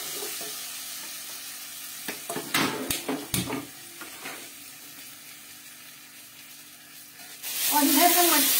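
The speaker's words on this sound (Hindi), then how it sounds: "ये सब हम इसमें डाल देंगे और इसको हम बराबर भूनेंगे।" Tomato masala roasting in a pan sizzles softly at first, with a few metallic knocks and stirring clatters in the middle, then the frying swells to a louder, fuller hiss near the end.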